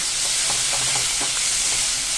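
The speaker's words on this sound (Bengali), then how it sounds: "কাঁচা লঙ্কা, টমেটো দিয়ে আবারও একটু ভালো করে ভেজে নিচ্ছি" Potatoes frying with green chili and tomato give a steady, close sizzle with soft stirring scrapes, continuous and fairly loud with no voices.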